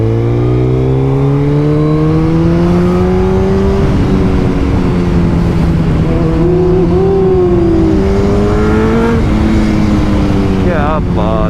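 A Suzuki Hayabusa motorcycle engine revs hard and accelerates in traffic, a loud, steady rising drone with shifting pitch throughout, recorded close and alone.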